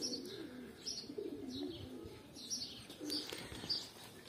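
Homing pigeons coo softly in repeated low phrases with scattered faint chirps, quiet and close, with no talking.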